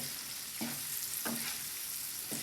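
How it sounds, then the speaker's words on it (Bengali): Spicy noodles fry in a pan with a continuous bright sizzle, broken by three evenly spaced scraping stirs of a utensil, close and fairly quiet with no voices. "আজকে আমি খুবই সিম্পলভাবে নুডলসটি রান্না করছি"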